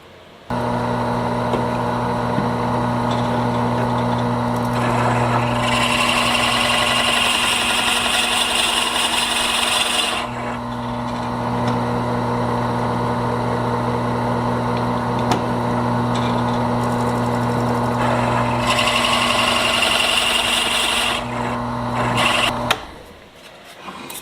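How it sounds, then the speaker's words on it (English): A power drill bores steadily through a rudder pedal pivot block. Its motor whines loud and close, holds a constant tone, and shifts pitch in load surges before it winds down near the end, with no talk. "I'm just going to go ahead and continue drilling through this"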